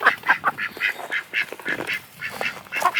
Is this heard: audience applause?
no